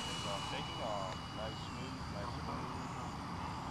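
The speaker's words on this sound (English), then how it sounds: "Plane is flying itself." A small autonomous airplane drones steadily in the distance after takeoff, its engine hum continuous and fairly faint, with voices briefly audible over it.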